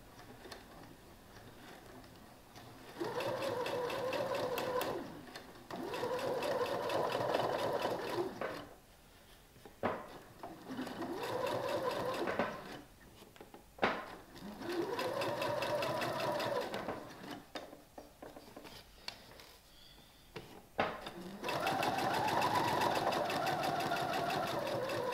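A sewing machine stitching a nursing-friendly dress runs in repeated bursts of rapid mechanical whirring, several seconds each, separated by brief pauses and small clicks, close and moderately loud with no talking.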